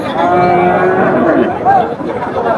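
Cattle lowing continuously at a busy cattle market, with several overlapping moos close by and market chatter in the background.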